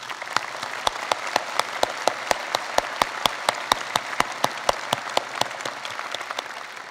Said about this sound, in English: Let's give them all another big round of applause